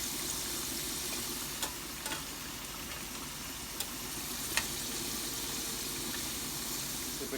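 Beef and potatoes brown in a hot pan for Filipino beef afritada stew, giving a constant close sizzle and hiss with a few faint clicks of utensils and no talking.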